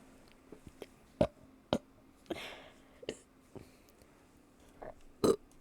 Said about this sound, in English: A very high burp count.